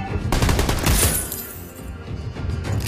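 Clint fires rapid bullet bursts in Mobile Legends, a mobile battle arena game, with close, loud, sharp cracks in quick succession that ease off after about a second before a few more shots.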